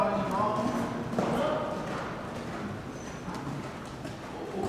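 Horse hooves on an arena surface during a lead change in a riding lesson, soft repeated thuds at a steady gait, with an instructor speaking over them.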